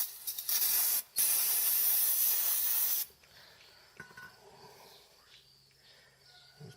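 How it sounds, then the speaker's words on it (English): Brake cleaner sprays in a loud continuous hiss onto greasy parts of a Farmall 560 diesel tractor, with a short break after about a second, then stops, leaving quiet shop ambience and faint knocks. "Let's try spraying some brake clean on there and get some of the"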